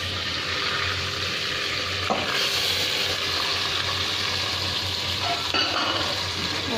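Mutton chops frying in a pan with garlic ginger paste: a steady, close sizzle with occasional stirring scrapes throughout, with no talking.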